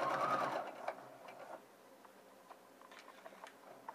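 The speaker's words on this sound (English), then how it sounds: "I'm going to be sewing for all thicknesses." Sewing machine stitching through all thicknesses of a welt pocket, a loud burst of rapid stitching at the start that eases into faint, sparse mechanical ticks and taps.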